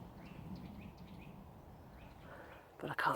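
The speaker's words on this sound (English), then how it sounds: "You can hear the birds are kicking off in the trees." Faint bird calls chirp intermittently from countryside trees in autumn, distant and quiet over a soft outdoor background, with a brief louder noise at the end.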